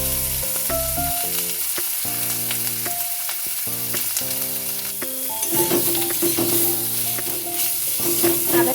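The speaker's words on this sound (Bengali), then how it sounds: "আদাটা একটু ভেজে নিচ্ছি তেলের সাথে।" Grated ginger with turmeric and whole cumin sizzles steadily in hot oil in a pan while an ash gourd dish is cooked, the frying crackle running on beneath loud background music with no voices.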